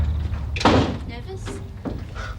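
A single solid door thud near the start, followed by quieter rustling and a person speaking softly nearby.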